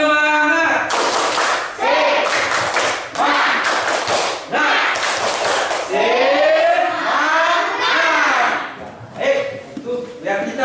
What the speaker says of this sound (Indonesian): Baik, kita tepuk semangat.